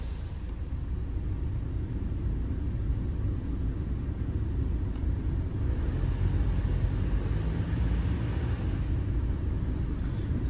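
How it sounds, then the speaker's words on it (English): Range Rover Evoque with the 2.0 Ingenium engine, fitted with a replacement water pump, starts up and runs with a steady, even low rumble that holds through the clip without distinct revs, with no talk. "just striking that up, we've just give it a little rev just to get things moving"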